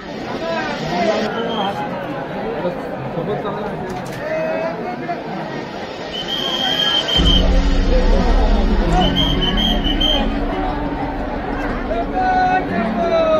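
Sunday crowd at the main gate of Jejuri temple, a dense babble of many voices with scattered calls and chatter, growing louder and closer partway through, with voices talking nearby.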